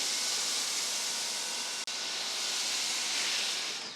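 A Ryobi 1.8 GPM high-flow pressure washer sprays through a foam cannon with a 1.25 nozzle, making a loud, steady close hiss with one brief cut midway.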